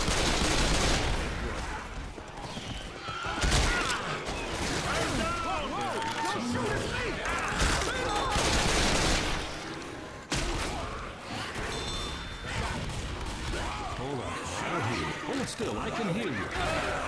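Dense, continuous gunfire rattles in Left 4 Dead 2, loud and chaotic throughout, with players talking and laughing over the shooting.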